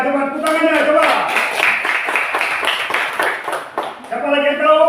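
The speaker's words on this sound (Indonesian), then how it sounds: "coba tepuk tangannya, coba." Schoolchildren in a classroom clap together to praise a classmate's answer. The clapping is brisk and close, and a voice is heard talking over it at the start and at the end.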